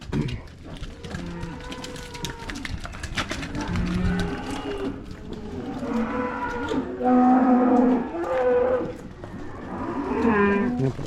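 Dairy cows on a farm near calving time moo repeatedly, deep drawn-out lows overlapping from several animals at close and middle distance, growing louder and busier toward the end.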